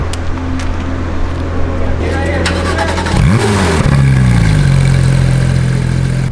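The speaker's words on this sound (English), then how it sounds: "so we are driving the Porsche GT3" A Porsche GT3 RS with about 510 horsepower on a racetrack, its engine idling and then revving up sharply and climbing in pitch, loud and close from inside the car, with people talking over it.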